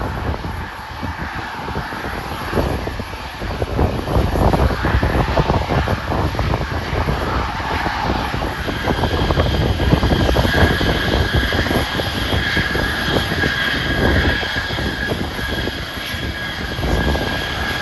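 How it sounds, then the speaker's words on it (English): A Piper general aviation propeller plane drones steadily for a long stretch while coming in to land at Burlington International Airport, Vermont, loud and sustained as if fairly close, with a rough engine hum and no voices. "We should see a Piper aircraft general aviation plane coming in from Albany in the background."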